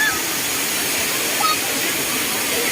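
A loud, steady roar of heavily falling water from Sai Yok Noi waterfall fills the clip with dense, unbroken rushing noise close by.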